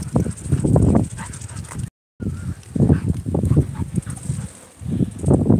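A pet dog whimpers and gives soft, bursty vocal sounds in several short bouts, close to the listener, with a brief silent gap partway through.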